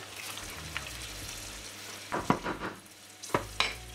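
Food just mixed with garlic is stirred in a pan of olive oil, giving a soft steady sizzle broken by a couple of louder scraping, splattering strokes near the end.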